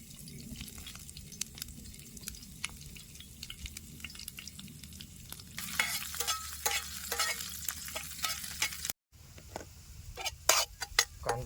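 Onion, green chili, garlic and curry leaves fry in hot oil in a pan over a campfire in a rainy forest. A soft sizzle carries frequent spatula scrapes and clicks, growing louder partway through after a brief break, with no speech.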